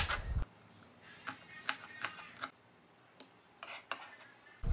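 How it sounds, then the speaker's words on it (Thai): A knife slices green and red bird's eye chilies on a cutting board, giving sparse, crisp taps spread irregularly, close and fairly quiet, with no voices. "พริกขี้หนูเขียวแดงซอย"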